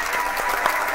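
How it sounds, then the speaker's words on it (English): An audience claps at an internet marketing seminar, a dense burst of hand claps at close-to-mid range lasting about a second. "Come on, let me hear you clap."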